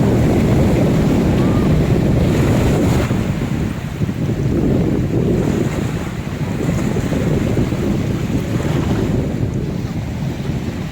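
Sea waves rolling in on Pattaya beach, Thailand, with steady wind buffeting the microphone, a continuous loud roar of surf and gusts with gentle swells in intensity throughout.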